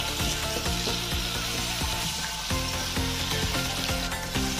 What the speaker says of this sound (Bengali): কুমড়োটা আমি 8 মিনিট ভাজলাম